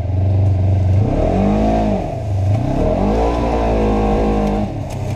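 Car engine at full throttle, loud and close, pitch sweeping up and down through several strong revs with a rough, buzzy tone.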